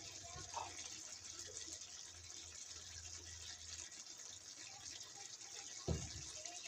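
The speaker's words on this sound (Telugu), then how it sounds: "కొద్దిగా వాటర్ వేసుకుంటాను" Water is poured into a pot of village-style chicken curry, a faint continuous gushing splash in a quiet room.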